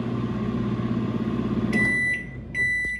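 A microwave oven hums steadily while chocolate melts inside, its low drone filling the first half before a run of clear electronic beeps sounds near and loud at the end of the cycle.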